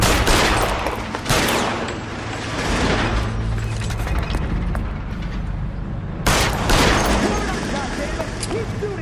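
Gunfire from a shootout in the video game L.A. Noire, with continuous rapid shots and bursts layered under character voices, loud and dense throughout with a sharp burst near the end.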